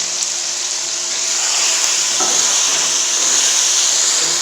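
Tomatoes fry with tender meat in a pan for a chicken and tinda curry, giving a steady, close hiss and sizzle with faint stirring scrapes and no talking.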